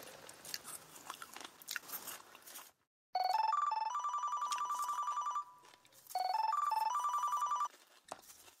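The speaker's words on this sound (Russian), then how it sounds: "А еще один бич кинотеатров – это звонки во время сеанса." A mobile phone ringtone plays in a cinema during a film screening, two loud electronic melodic bursts close by, after a stretch of crunching snack noises and chewing.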